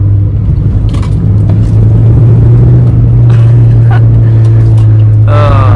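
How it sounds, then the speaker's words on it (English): A Mazda 323, a small slow car, driven hard with a loud, steady engine drone and road rumble filling the cabin, a voice speaking over it now and then. "There's something about trying to drive fast in a slow car."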